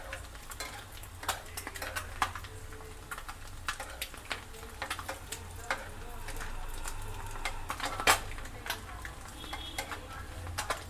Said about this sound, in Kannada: ಸ್ಟವ್ ಕಡಿಮೆ ಮಾಡ್ಕೊಂಡು ಈ ಥರ ಫ್ರೈ ಮಾಡ್ಕೋಬೇಕು.